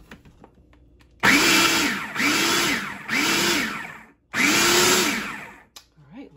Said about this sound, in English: then I'll pulse it a little bit more